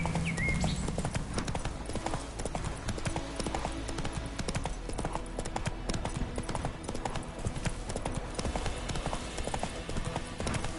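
A horse gallops in the video game Witcher 3, its hooves beating a fast, steady clip-clop rhythm that runs throughout at moderate level beside background game music.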